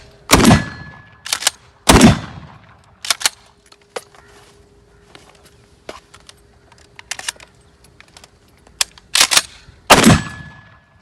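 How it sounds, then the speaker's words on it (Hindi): Gunfire while reloading: sharp loud shots in irregular pairs and bursts, separated by quieter mechanical clicks and handling noises, close and otherwise quiet, no talk. "while you are firing you are also reloading the gun"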